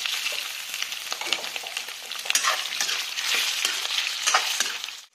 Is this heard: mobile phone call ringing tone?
no